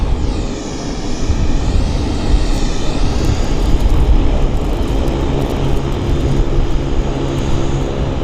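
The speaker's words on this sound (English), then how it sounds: "I don't want to compete with the noise of that airplane" A loud, steady jet engine roar with a whining high tone from a parked airliner at Vancouver Airport, running continuously and close by without a break.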